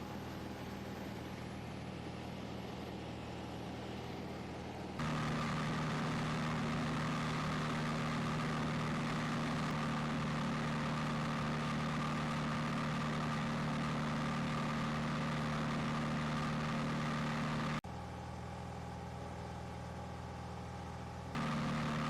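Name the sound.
small aircraft engine during flight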